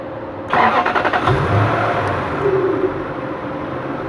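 A car engine cranks and catches after a starter cut relay fault check, then settles into a steady running rumble, close by and fairly loud.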